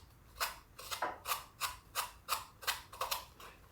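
The textured heel cup of a Giant Surge Pro cycling shoe is rubbed in quick, even strokes, giving about nine rasping, grippy scrapes in a steady rhythm, close and fairly quiet.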